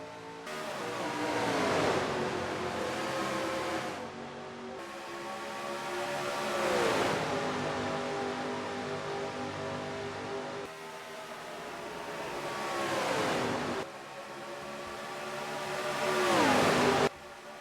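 Pack of stock cars at the green-flag race start in NASCAR Racing 2003, engines roaring continuously and loud, with repeated rising-and-falling pitch sweeps as cars accelerate past and down the straight.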